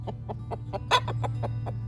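Chickens on a homestead clucking by their coop near the barn at the edge of a pasture, a close, rhythmic run of about eight short clucks with one louder squawk in the middle, over a low steady hum.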